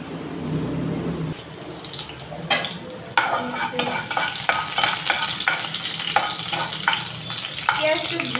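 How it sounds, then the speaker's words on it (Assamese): Onions sizzling in hot oil in a home kitchen pan while being stirred for a vegetable dinner, a loud steady frying hiss broken by repeated scraping strokes of a utensil, close and continuous with no talk. "এয়া চাওক তেল গৰম হৈছে। পিঁয়াজ দিছোঁ"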